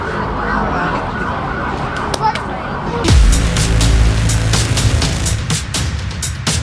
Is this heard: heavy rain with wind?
no